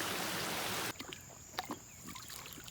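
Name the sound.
neighbor's stream flowing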